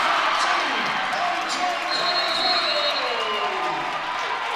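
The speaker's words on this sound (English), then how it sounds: "this crowd is erupting after that fantastic defensive and offensive play" High school boys basketball crowd in a gym roaring and cheering after a big play, a dense, sustained wash of voices and applause that swells loudly, with an announcer speaking over it.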